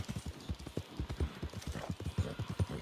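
Horse hooves clip-clopping in Red Dead Redemption, a quick, even run of clear thuds at close range that keeps up throughout, with no voices over it.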